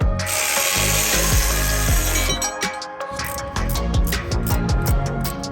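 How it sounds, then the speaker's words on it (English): Electric ratchet whirring and clicking in repeated bursts while backing out turbo flange bolts on a VW GTI, up close with short pauses between runs. "gonna get the electric ratchet to get it all the way off"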